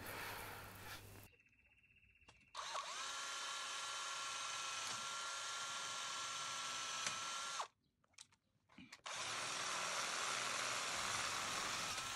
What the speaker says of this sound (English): Obviously going through with a thin drill bit, then going through with a thicker one, makes it much easier.